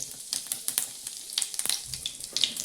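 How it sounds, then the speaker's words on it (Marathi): Cumin seeds and asafoetida sizzle in hot oil in a pan, a close, steady crackle with scattered sharp pops and spits and no voices. "आता तेल तापलंय बघा, याच्यात थोडंसं जिरं टाकले आणि हिंग टाकलंय"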